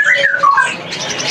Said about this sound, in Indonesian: kita lihat bunyinya ya dari burung cucarowo yang tadi kita habis pantau